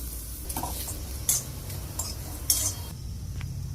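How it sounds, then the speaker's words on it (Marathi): Onion roasting in oil in a pan for spicy misal pav, with a soft sizzle under several sharp clinks and scrapes of a utensil stirring against the pan. "त्यानंतर ना कांदा भाजून घ्यायचा आहे"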